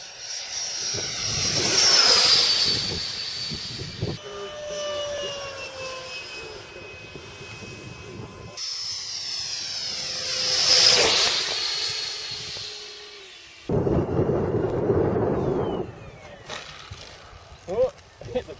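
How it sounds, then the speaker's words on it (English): Electric ducted fans, one 5-blade and one 10-blade, run in turns with a loud high-pitched jet-like whine that rises and falls, separated by brief breaks and changes in tone. "So that's the difference in sound between the two fans."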